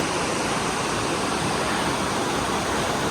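Strong waves of water rushing near a wild mushroom foraging spot, a constant broadband roar with no breaks and no voices.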